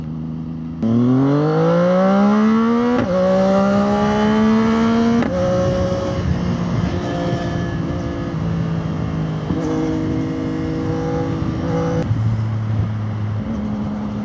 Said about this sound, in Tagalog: Nagandahan sa tunog ng bagong pipe natin. Nagtunog daw 1000cc.